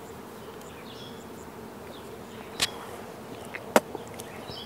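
Honeybees at a breeder hive make a faint, steady buzzing close by in an outdoor apiary, with a couple of brief sharp clicks or knocks near the end.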